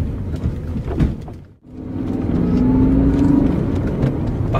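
A 400-horsepower V8 in a BMW E39 M5 pulls hard, drops away briefly in a sudden dip, then surges back and climbs in pitch as it accelerates, loud and close throughout.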